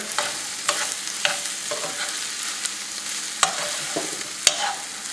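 Garlic, carrot and other vegetables frying in a pan, stirred with scrapes and clacks of a utensil at irregular intervals over a steady, close sizzle, with no talking.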